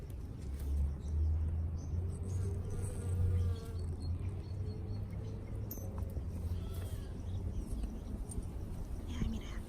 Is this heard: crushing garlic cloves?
no